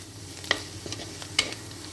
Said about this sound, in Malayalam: നന്നായി ഒന്ന് മൂപ്പിച്ചെടുക്കണം കേട്ടോ